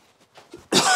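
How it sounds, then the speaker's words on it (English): A single loud cough bursts out close to the microphone after a moment of faint kitchen sounds during apple and blackberry pie making. "I'm going to have a cough."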